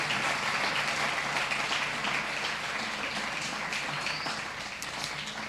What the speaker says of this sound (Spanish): ¿Cuántos le pueden dar un aplauso al Señor por eso?